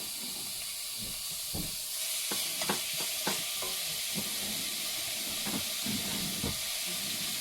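Pork frying in a pan inside a camper van kitchen in Denmark, a steady hiss and sizzle running throughout with scattered clinks and scrapes of stirring, close and moderately loud, no talking.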